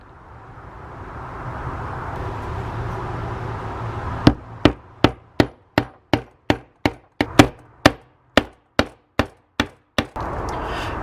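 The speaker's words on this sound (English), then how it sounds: "So busted out the rubber mallet and we're gonna grease this guy up." A rubber mallet drives a replacement ASV lever onto a Yamaha FZ6R motorcycle, about seventeen sharp, close, evenly spaced knocks over a low background hum, with no talking.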